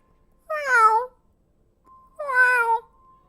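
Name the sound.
cat yowling loudly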